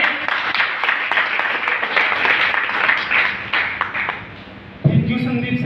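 A crowd applauds steadily for several seconds, dense clapping throughout, with a voice briefly breaking in near the end.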